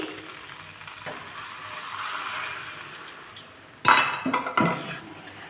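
Water poured into a pan of shrimp, jackfruit and eggplant curry sets off a loud burst of sizzling and bubbling after a stretch of steady frying hiss, with a few clinks of a utensil against the pan.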